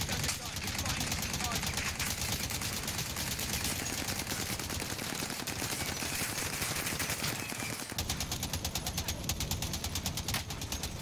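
Gunfire in the video game Call of Duty Warzone, with steady rapid automatic bursts and a dense crackle of shots running continuously while voices talk over it.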